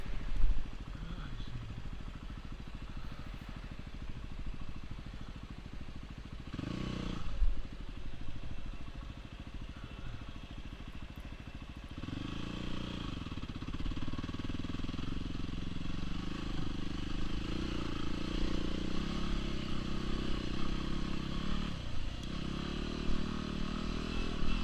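A Yamaha WR250R dual-sport motorcycle climbs back up a dirt slope, its engine droning and rising in pitch with each throttle surge, while faint clatter and occasional wind noise accompany the ride at a moderate distance.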